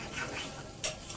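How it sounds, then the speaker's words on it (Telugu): Egg Maggi noodles being stirred with a utensil in a pan that sticks at the bottom, with soft continuous scraping and a faint sizzle, then one sharper clink near the end; no talking. "కలుపుకుంటున్నా."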